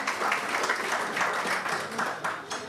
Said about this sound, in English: round of applause for her for being so kind to her juniors.